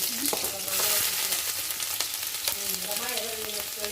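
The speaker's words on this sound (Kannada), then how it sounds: "ಫ್ಲೇಮ್ ಜೋರ ಇರಲಿ ಮೊದಲಿಗೆ ಬೆಳ್ಳುಳ್ಳಿ ಹಾಕೋತೀನಿ ನೋಡ್ರಿ ಶುಂಠಿ" Garlic and ginger frying on a high flame for Manchurian, a loud, dense sizzle that runs unbroken while a spatula scrapes and clatters against the pan, with no voices over it.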